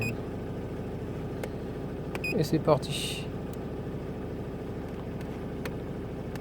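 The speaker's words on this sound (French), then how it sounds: "Donc je le fais moteur tournant hein, pour vérifier un peu les paramètres moteurs." A 2007 Renault Laguna II phase 2 engine idles steadily and close throughout, with a steady low rumble while someone speaks briefly over it and a few small clicks and beeps sound nearby.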